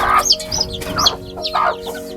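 Hens clucking close by on a farm in short, repeated bursts, several birds overlapping in a busy, continuous chatter.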